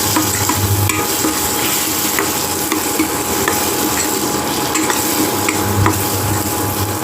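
Spice paste with Kashmiri chili powder fries and sizzles in a pan for chicken, a steady loud crackle with scraping stirring throughout and no talk.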